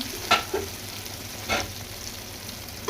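Chicken with spices fries in hot oil, a soft continuous sizzle broken by a few louder stirring scrapes and pops near the start and middle, with no talking.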